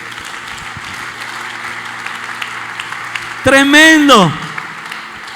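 Church congregation applauding during a sermon, a moderate patter of clapping throughout, interrupted near the end by a loud spoken exclamation.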